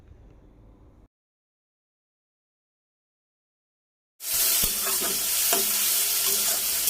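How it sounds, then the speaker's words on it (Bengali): Onion, green chili and potato are stir-fried with cumin paste in a pan: a short faint stretch, a gap of silence, then a loud dense sizzle with scraping stirs. "জিরে বাটা দেওয়ার পর আমি ভালো করে মশলার সাথে পেঁয়াজ কাঁচামরিচ এবং আলু কষিয়ে নিচ্ছি।"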